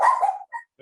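A household dog gives one sharp bark followed by two short, quieter yips, close and brief, with no talking.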